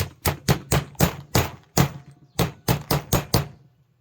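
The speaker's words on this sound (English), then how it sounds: "So let's go ahead and put this bearing in. Tap her down." Hammer blows tapping a bearing into place during a Liberty 3-point wood chipper repair: about a dozen sharp, close metallic strikes in two quick bursts with a short pause between, ringing alone without talk.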